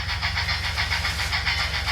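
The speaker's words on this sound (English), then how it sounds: "watched as the train pulled into the log mill" A log train pulling into a lumber mill, heard as a steady, rumbling low engine drone with a regular pulsing rhythm, close and moderately loud, with no voices.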